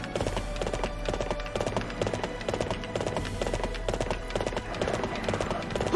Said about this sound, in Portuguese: Ainda bem que a gente tem esses cavalos aqui, mano.